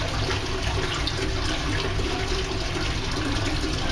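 A toilet flushes in the upstairs restroom of a Nando's restaurant in Colchester, a steady close rushing of water that fills the whole moment without voices.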